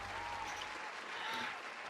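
Audience applause during a sneaker podcast, a soft, steady wash of clapping that holds at a low, even level for the whole stretch with no distinct individual claps.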